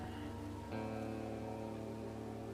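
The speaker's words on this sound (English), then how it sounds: "Alright, rain's coming." Steady rain falling in an anime episode, a constant soft hiss of drops with no break, a light musical tone continuing underneath and a slight shift in texture partway through.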